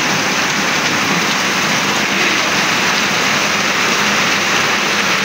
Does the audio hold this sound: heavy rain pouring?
yes